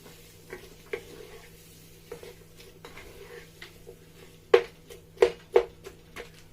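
Cut vegetables being stirred together in a pot for jollof rice, a quiet scattered series of spoon clinks and scrapes against the metal, with a few sharper knocks near the end over a low steady hum.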